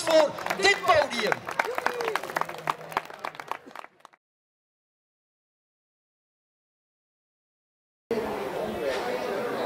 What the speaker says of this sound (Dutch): Een geweldig applaus voor dit podium.